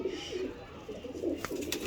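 Zira pigeons coo repeatedly in soft, low pulses against a busy background, ending with a few sharp clicks or flaps near the end, with no voices.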